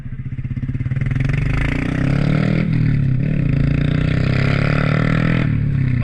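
Low, throbbing rumble from a motorcycle with an aftermarket exhaust, idling close by with a steady pulsing beat that swells as it revs up, staying loud and continuous without talk.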